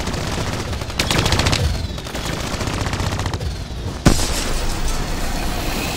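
A hijacked turret firing in Call of Duty: Black Ops 3, rapid loud bursts of automatic fire with a sharp boom partway through, over constant battle noise.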